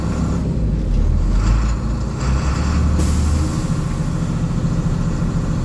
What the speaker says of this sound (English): I'm going to go ahead and put it in high idle.